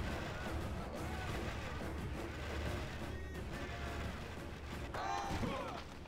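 Volleys of arrows from archers in Rome: Total War loosed during a Numidian campaign battle, a dense continuous clatter and thudding of projectiles with battlefield din throughout, and a brief swooping tone near the end.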